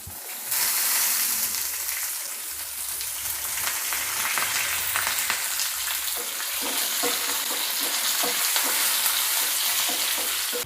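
Dried red chillies and a sprig of curry leaves sizzle and crackle in hot oil alongside chana dal, a continuous bright frying hiss with scattered pops and occasional stirring, close and steady throughout.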